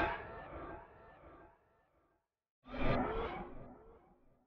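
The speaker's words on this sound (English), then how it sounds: "originally he had completely different stalking sounds," Beta stalking sound effects for Michael Myers from a video game: two dark, rumbling whooshing swells, the first fading out slowly, then a short silence before a second rises and decays, faint and without talk.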